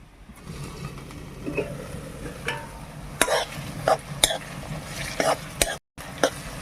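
Oil with cumin seeds and onion frying for a Kerala-style chicken curry: a low, continuous sizzle broken by several sharp clinks and scrapes of a spoon stirring in the pan, with faint background noise.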